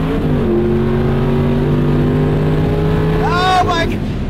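A 1,200hp Dodge Challenger Demon street car runs down a drag strip, its engine a sustained, strained drone that holds steady for several seconds, then a person shouts excitedly near the end.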